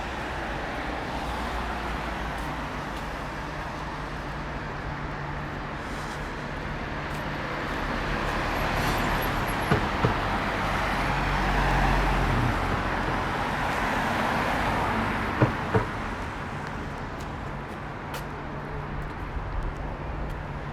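Cars pass along an evening street in Oxford city centre, a steady broadband road roar with a couple of louder swells as vehicles go by, no talking.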